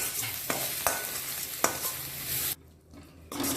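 Ponnanganni greens with turmeric sautéing in a pan, a close sizzle broken by several sharp spatula scrapes and taps, then a brief quiet gap before the frying resumes.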